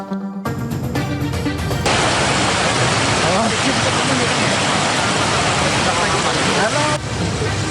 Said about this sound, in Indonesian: Jebolnya tanggul membuat air mengalir deras ke jalan dan permukiman warga.